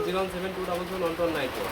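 Low, throaty pigeon coos repeating close by, blending with a steady murmur of background sound.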